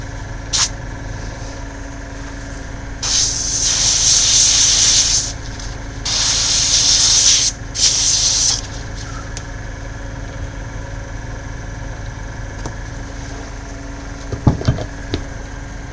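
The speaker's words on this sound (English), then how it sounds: "I'm just doing very quick airbrush changes, colour airbrush clean outs" Airbrush being flushed out with thinners between paint colours, giving three loud hissing spray bursts of a couple of seconds each over a low background hum, then quiet with a few small clicks and knocks.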